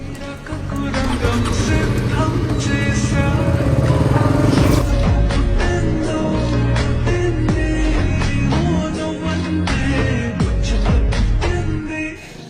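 A motorcycle rides along a road at night toward Dhaka Road, its engine droning steadily up close with shifting revs, while people talk over it throughout.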